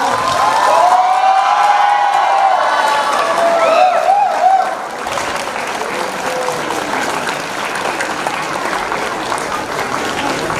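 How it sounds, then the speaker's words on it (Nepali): Loud, dense applause from an audience at a welcome and farewell function fills the hall, with some cheering on top, then eases to a softer, steady clapping. "जोरदार ताली बजाएर साथ दिनुहोला"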